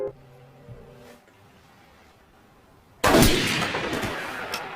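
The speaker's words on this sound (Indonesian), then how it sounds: "Lee ditembak mati." A single loud gunshot rings out in a tense film scene, a sudden close blast with a lingering decaying tail after a few seconds of quiet low ambience.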